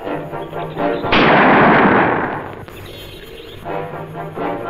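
A single loud gunshot is fired as a warning, a sharp blast followed by a long rumbling decay lasting over a second, close and dominant in a quiet scene.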